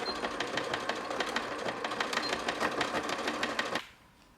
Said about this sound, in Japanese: ファスナーをポーチの長さに切って、端っこを返し縫いしておこう。